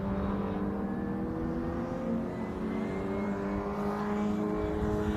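MG Car Club race cars on a circuit, a continuous loud engine roar with overlapping whining tones as several cars pass, steady throughout with slight rises and falls.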